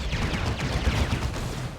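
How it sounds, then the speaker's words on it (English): Plasma cannon fire in the Warhammer 40,000: Dawn of War 2 strategy game, a dense, loud stretch of booming shots and blasts layered over continuous battle noise with no let-up. "Plasma Cannon. Oh, gets a really good hit."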